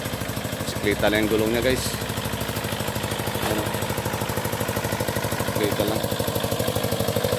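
An old Kubota mini tractor, bought second hand, runs with a steady rapid engine chug throughout, close and continuous beneath a voice speaking over it.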